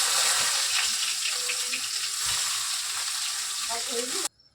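Spinach goes into a pan and sizzles loudly, a bright frying hiss with stirring scrapes, running steadily close up before cutting off abruptly near the end.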